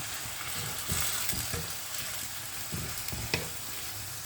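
Mushrooms frying in a pan, a continuous bright sizzle broken by several soft scraping stirs and light clinks of a utensil, close and steady with no talk.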